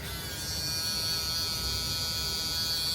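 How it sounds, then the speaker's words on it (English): A Matsui electric foil shaver running close by, a loud, steady high-pitched buzz that holds unbroken for the whole stretch with no talking. "obviously this is one of the loudest foils I've ever heard, but it's a foil shaver."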